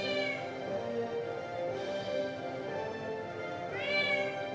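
House cat meowing in a room, two drawn-out meows a few seconds apart, close and fairly clear over a low steady background hum, with no talking.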